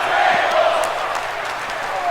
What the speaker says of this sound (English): The crowd chanting they want tables